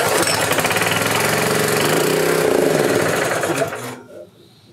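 Gas-powered air compressor engine running loudly with a steady rapid mechanical chatter, choke on, close by, then cutting out abruptly near the end leaving quiet.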